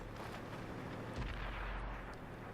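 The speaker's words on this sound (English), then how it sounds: "Auto aim is firing into the spaced armor on the top of the tank." A tank cannon fires in a tank combat video game, one deep booming blast halfway through that rolls on at low pitch over constant rumbling battle ambience.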